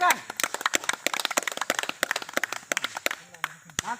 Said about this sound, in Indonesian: Oke, tepuk tangan buat rekan-rekan.